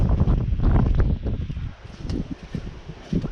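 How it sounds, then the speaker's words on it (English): Gusty wind buffets the microphone outdoors at an RV park in Eufaula, Oklahoma, loud rumbling bursts that rise and fall unevenly, with faint rustling between gusts. "Ooh, wind. I'm freezing."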